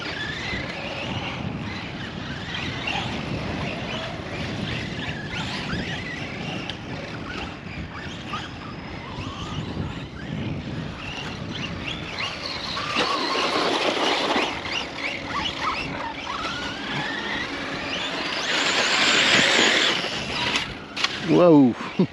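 An Absima Torch brushless RC truggy on a club track gives off a continuous electric whine that rises and falls as it speeds up and brakes, with gritty tyre and gravel noise, ending in louder, nearer bursts; people talk at times.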